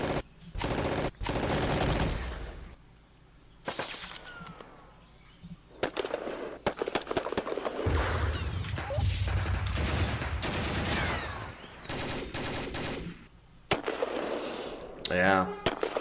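Bursts of gunfire from the war game John Tiller's Panzer Campaigns France '40, set at Arras, come in rapid crackling volleys separated by short gaps, loud and clustered throughout.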